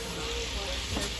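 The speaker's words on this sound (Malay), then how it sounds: "Kita tengah goreng ayam." Steady, close sizzling and crackling of chicken frying in a pan, a dense hiss with no voices.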